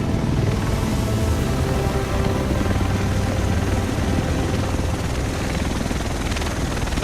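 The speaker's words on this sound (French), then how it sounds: "Le reste de l'équipe devrait être dans cet hélico." Helicopter in the video game The Division, a loud, steady rotor and engine roar that fills the whole stretch without letup, close by and with no talk over it.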